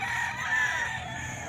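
A single rooster's crow rings out close and loud, holding a drawn-out, wavering note across the brief moment with steady ambient noise behind and no voices.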